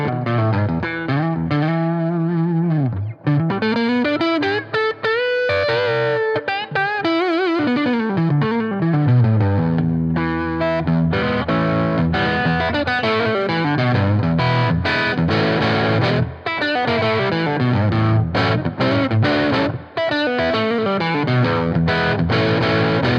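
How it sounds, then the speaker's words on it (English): Kiesel single-cut electric guitar played through a small Fat Jimmy Jimmy Jr amp with a distortion pedal, loud and continuous with bending lead lines and chords, no talking. "What I've done is I've got a distortion pedal turned on here, and I'm just going to show you the tone real quick"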